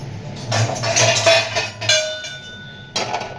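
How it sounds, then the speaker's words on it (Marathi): A metal kadai is set down on a lit gas stove while sabudana khichdi is being made, giving a few close metallic clanks and a brief ringing clatter, then a second knock near the end. "आता आपण गॅस पेटून कढई ठेवूया"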